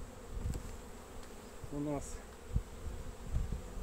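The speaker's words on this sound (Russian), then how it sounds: "И тут уже даже пчела наверх поднялась." Honeybees hum softly at an open hive, a faint continuous buzz with one bee passing close in a brief louder pitch-shifting drone, and a voice speaks briefly in Russian.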